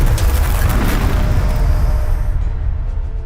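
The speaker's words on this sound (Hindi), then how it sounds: "जोरदार धमाका हुआ" A loud, sustained explosion sound effect for the moment a huge chunk of rock collides with a tearing whirlwind: a heavy roaring boom that fills the space and slowly thins out over a few seconds.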